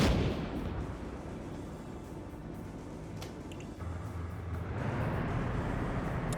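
A tank cannon shell fires in a PvP video game battle, a loud broad boom at the start that leaves a rumbling, noisy tail, with a second surge of low rumble later on.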